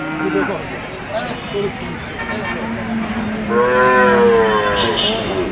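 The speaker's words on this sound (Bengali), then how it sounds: "এটা সিন্ধি গরু" A Sindhi cow moos at a busy cattle market, one long drawn-out low call near the end rising above steady crowd chatter, with an earlier shorter moo and voices throughout.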